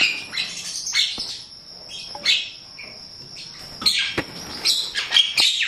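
A caged Javan myna (jalak kebo) starling gives repeated harsh squawks and chirps, loud and close, in irregular bursts across the whole stretch with no talk.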